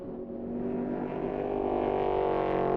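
Open-roof Panoz Spider race car engine during Le Mans 1999 qualifying, a smooth rising whine with strong harmonics that builds steadily in loudness as the car approaches, heard alone without talk.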